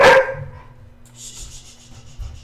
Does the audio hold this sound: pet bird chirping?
no